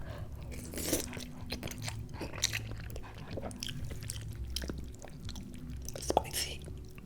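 Close, quiet chewing and crunching of spicy garlic chili noodles, with scattered bites and soft mouth sounds at an irregular pace, no talk.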